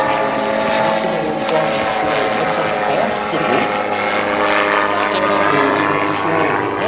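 A Trek ultralight aircraft flies past at an airfield, its propeller engine droning loudly with a pitch that rises and falls as it moves, while faint voices sit under the noise.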